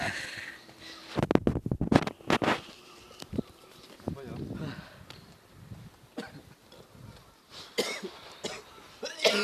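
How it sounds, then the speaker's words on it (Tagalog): Several rough coughs burst out in quick clusters amid outdoor background noise and scattered voices, on a cold night near a cemetery in Nagasaki. "Inuubo pa yung kasama namin."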